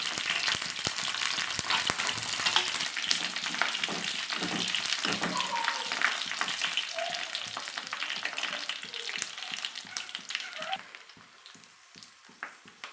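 Hibiscus leaves sizzle and crackle steadily in hot oil while being made into a hair oil, with a dense frying hiss that thins out toward the end.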